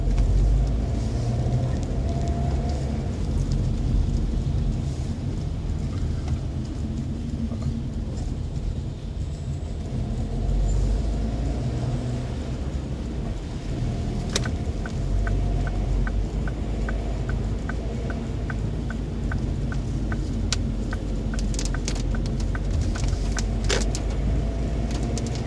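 A car drives at night through central London from Hyde Park Corner toward Piccadilly, with a steady low road rumble and engine hum, plus a run of regular ticking clicks partway through.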